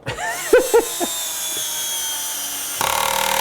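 Power drill driving a screw into wood, a short whirring spin at the start, then a quieter stretch before the motor surges again with a buzzing ratcheting clutch at the end.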